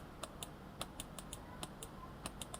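The scroll wheel of a 2E Gaming HyperSpeed Lite gaming mouse gives quiet, crisp clicks in short irregular runs, heard close up against faint background noise.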